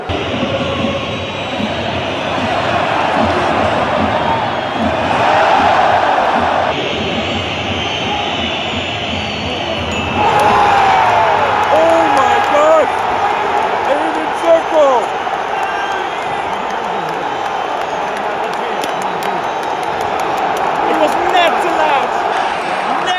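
Inter fans celebrating a goal in the Champions League derby against AC Milan, a dense stadium roar that swells and carries on steadily, with rising and falling chant-like voices woven through the noise.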